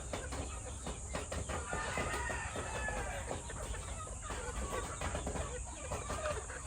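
Black Kelso gamefowl roosters in a simple breeding area cluck and call, with some crowing, close and fairly clear over steady outdoor background noise.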